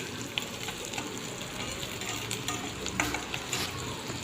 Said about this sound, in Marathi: तेलामध्ये कडून घ्यायचं आहे.